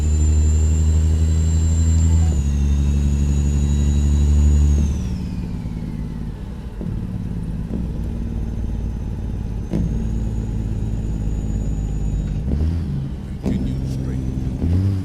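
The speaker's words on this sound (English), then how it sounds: "I love this engine sound." A truck engine rumbles loudly and steadily, with deep low harmonics and a whining tone, easing down in pitch partway through and then climbing again as it revs near the end.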